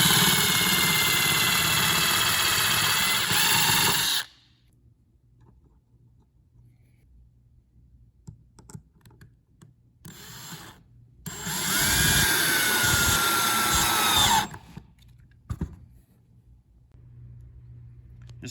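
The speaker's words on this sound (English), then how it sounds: "So that's what you get when you're drilling into the board." A power drill boring into an HDPE board runs in two loud, whining bursts of a few seconds each, close up, separated by quiet with light handling noise and no talking.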